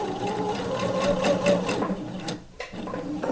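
Sewing machine stitching a knit wrap dress, a fast steady whirring hum that stops briefly near the end before restarting, close and unaccompanied by talk.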